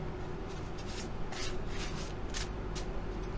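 Steady soft rubbing and riffling of a large handmade oracle card deck being shuffled by hand during a tarot reading, a continuous papery shuffle with a few brighter flicks, close and fairly quiet.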